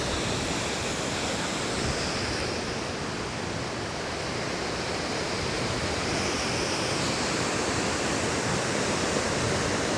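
Waterfall and stream in the New Zealand highlands, a dense, steady rushing roar of falling and flowing water, loud and unbroken throughout with no voices.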